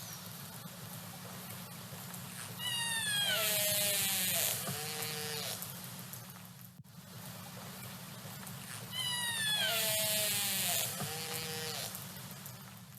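High-pitched whistles and pulsed squeals from orcas sound in two similar bursts over a low underwater rumble.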